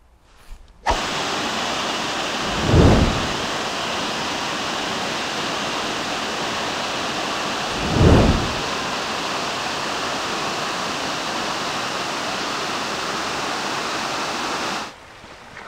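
A small waterfall in the Jura mountains in winter roars loud and steady, a constant rushing wash with two brief louder bumps partway through.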